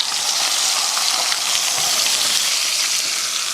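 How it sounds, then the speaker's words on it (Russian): Steady, loud hiss of a small chicken frying skin-side down in a hot pan, a continuous close sizzle with no talking. "Отправляем цыпленка на сковородку"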